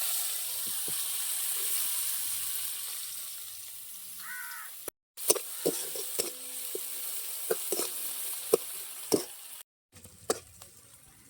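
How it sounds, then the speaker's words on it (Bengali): Chilli powder, panch phoron and green chillies hit hot oil for a village-style Bengali koi and latha fish curry, giving a steady close sizzle with scattered pops and stirring clicks, two brief dropouts and a faint bird call in the background. "লঙ্কা গুঁড়ো পাঁচ ফোঁড়ন আর কাঁচা লঙ্কা আমরা দিয়ে দেব"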